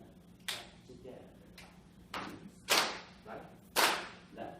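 Hand clapping in a rhythm pattern at a music education session, five sharp close claps spaced unevenly in a repeating pattern.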